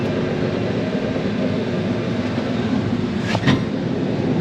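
A sprayer engine runs at a steady, loud drone with broadband rumble throughout, holding an even level with no clear rise in pitch, plus a brief extra whoosh near the end.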